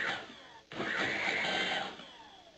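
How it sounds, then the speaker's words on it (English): Blender pureeing pieces of pasilla chile, a motor whine that cuts briefly, then restarts with a loud churning roar before trailing off and fading, with no one talking. "fit them into the blender. And then we're going to puree it"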